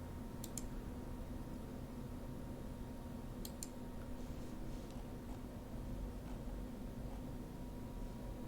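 A computer mouse gives two quick double-clicks a few seconds apart, faint and crisp over a steady background hiss, with no talking.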